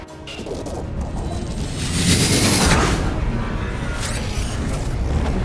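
A missile striking an enemy aircraft in the video game Ace Combat 7 sets off a loud, sustained crashing blast that swells around the middle and rumbles on to the end, with no talk over it.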